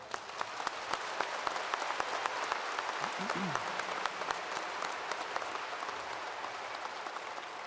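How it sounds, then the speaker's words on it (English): An audience at a spring university commencement ceremony applauds the graduates, a broad, continuous clatter of many hands with sharper individual claps standing out, and a brief voice surfacing midway. "please join me once again in applauding these distinguished graduates"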